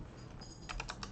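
A short run of a few keystrokes typing a search on a computer keyboard, faint and close under a steady background hiss.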